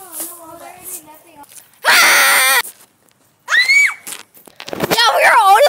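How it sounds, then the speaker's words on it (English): Several people scream during a casual daily vlog, loud high-pitched shrieks in short bursts with brief pauses, mixed with excited voices. "we were all just kind of screaming"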